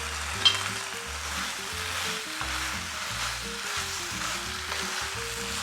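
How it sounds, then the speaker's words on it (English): Pasta hits a hot pan already holding tuna and mushrooms, and a steady moderate sizzle of frying follows, with occasional stirring scrapes and a small clink early on. Nobody speaks. "I'm gonna now add the pasta."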